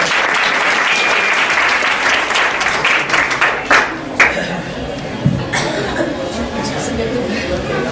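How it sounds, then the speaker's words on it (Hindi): A church audience claps loudly to welcome a speaker at a Christmas evening gathering, dense continuous applause with scattered sharper claps and light chatter and chuckles mixed in. "इस समय हम ताली बजाकर उनका स्वागत करेंगे।"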